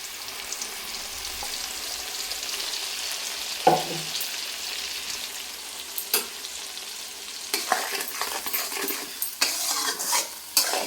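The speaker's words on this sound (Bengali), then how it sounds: "তো মশলাটা দিয়ে আমি কিছুক্ষণ কষে নেব" Spiced masala paste with Kashmiri red chilli powder fries in a pan, its soft sizzle broken by scraping stirs and clinks of a spoon against metal that grow busier toward the end, close and without talk.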